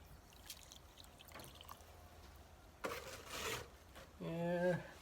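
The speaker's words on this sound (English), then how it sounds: "Add some water." Water poured into a 50-50 mix while fixing a firepot that sits too deep: a brief splashing pour in the middle of an otherwise quiet stretch, followed by a short voice.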